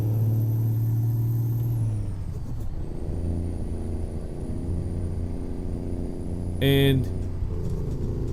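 A heavy truck engine in American Truck Simulator revs and then settles into a low rumble, followed by a sharp hissing burst of air brake near the end, with someone talking over it.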